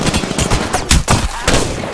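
Dense, loud gunfire rattles in Apex Legends on PS4, with repeated close shots and bursts overlapping across the whole moment, with no pause.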